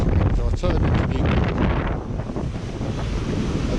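Strong wind buffets the microphone on a blustery UK beach, a loud continuous roar blending with crashing surf and waves throughout.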